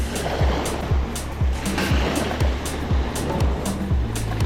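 Ocean surf washing onto a Sanibel Island beach, a steady broadband rush with repeated wave surges about every half second to second, fairly loud and continuous with no voices.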